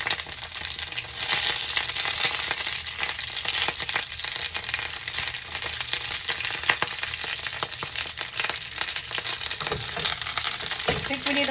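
Cabbage pillows frying in hot oil, giving a steady, close, loud sizzle with scattered sharp snaps and pops throughout, and a couple of heavier clatters near the end.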